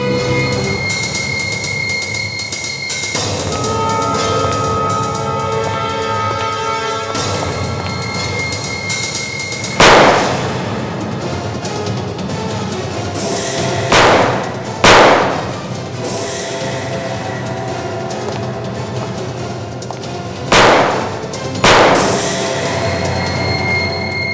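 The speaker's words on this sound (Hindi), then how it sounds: "गोली संभाल के चलाना, कहीं सोनाली को गोली लग न जाए" Several sharp, loud gunshots ring out during a shootout, fired singly and in quick pairs over a steady background of dramatic music, with nobody speaking.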